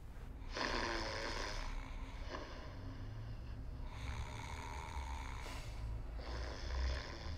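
Loud, close snoring in repeated long rasping breaths, each rattling snore followed by a pause, with no talking.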